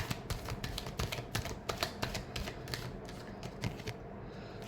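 Tarot cards are shuffled by hand in a quick, continuous run of crisp, papery clicks and riffles, fairly close and with no voices.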